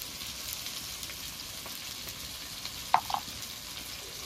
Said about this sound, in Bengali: লবণ দিয়ে দিয়েছি, এবার পরিমাণ মতো একটু হলুদ দিয়ে দেব।